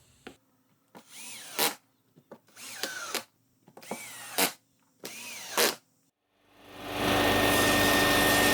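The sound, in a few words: screw driven into a piece of pine with a drill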